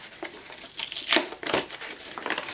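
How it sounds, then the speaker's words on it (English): Paper wrapping is crinkled and torn off a book in short, close rustling bursts with a couple of sharper rips, fairly quiet, with no talking. "let's unwrap this"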